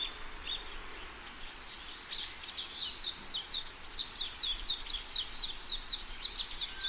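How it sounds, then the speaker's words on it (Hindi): High, rapid chirping of baby birds in a nest, a continuous run of short twittering calls, fairly faint, with no voices. "घोंसले में बैठे बच्चों ने डरकर जोर जोर से चहचहाना शुरू कर दिया।"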